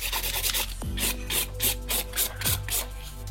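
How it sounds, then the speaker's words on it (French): A nail file rasps back and forth over long acrylic stiletto nails in quick, rhythmic strokes, close and fairly loud, with no talk. "quand on lime des stilettos des grandes longueurs comme ça"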